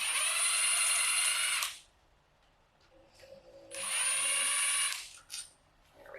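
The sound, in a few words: power tool used in K24 engine teardown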